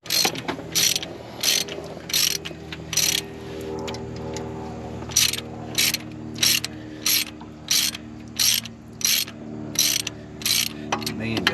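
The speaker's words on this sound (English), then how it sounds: "Ratchet." A ratchet fitted with a 5/8 socket works a bolt on the engine of a 1984 Chevrolet Monte Carlo race car, giving loud, close bursts of rapid clicking in a regular back-and-forth rhythm against a low background hum.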